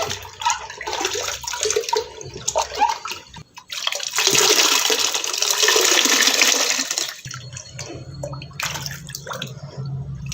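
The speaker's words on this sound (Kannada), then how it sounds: "ಚಂದ 2 ರಿಂದ 3 ಬಾರಿ ತೊಳೆಯೋಣ" Grapes being washed in salt water, with splashing and swirling water, a louder rushing pour in the middle and softer sloshing at the start and end, no talk.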